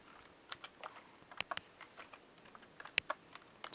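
Light typing on a computer keyboard, with scattered soft key clicks and a few sharper taps, close but quiet and without talk.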